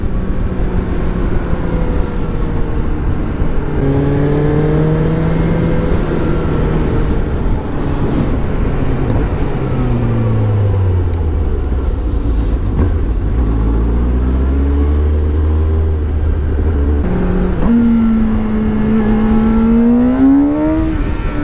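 A 2017 Suzuki GSX-S750 motorcycle engine revs and accelerates hard during a wheelie, its pitch climbing and dropping through gear changes, loud and close throughout with steady wind and road noise beneath.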